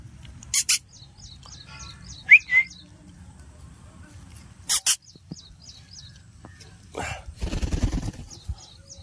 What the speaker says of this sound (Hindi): ये देखिए पहाड़ी तोता का बच्चा और इधर देखिए देसी पहाड़ी का तोता।